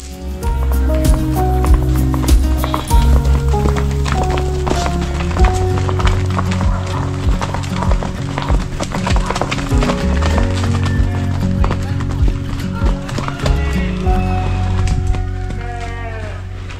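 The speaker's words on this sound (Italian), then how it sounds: "stiamo aspettando che tornino tutti i cavalli e tutte le pecore e le capre per la notte" Horses returning to an animal shelter for the night, along with sheep and goats, produce steady overlapping hoof clip-clops close by, mixed with animal calls and brief bleats throughout.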